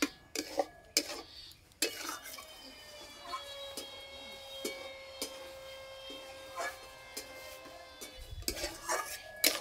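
A spoon stirs and scrapes chira kalakand made with jaggery in a pan, giving a run of close, irregular metallic clinks and scraping knocks with short pauses, with a few louder clatters at the start and end.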